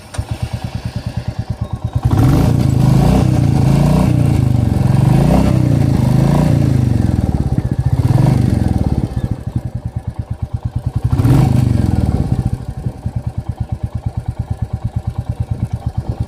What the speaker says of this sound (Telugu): ఇవాళ మనం royal Enfield classic 350కి exhaust sound test అయితే చేద్దాం